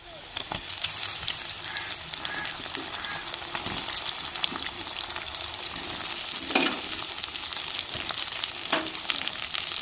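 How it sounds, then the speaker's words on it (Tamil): Tomatoes and brinjal sauté in oil with softened onion and green chilli for an eggplant potato rice, giving a steady, loud sizzle throughout with a few sharper spatters and light stirring scrapes. "நம்ம இந்த எண்ணெயிலேயே தக்காளியும் கத்திரிக்காயும் வதக்கி எடுத்துக்கணும்"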